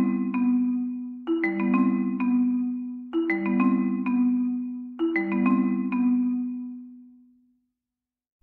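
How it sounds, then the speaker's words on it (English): A marimba plays a short, mellow melodic phrase of wooden bar notes, repeated in three similar groups with warm, resonant tones that ring and fade out at the end. "The marimba looks and sounds like this."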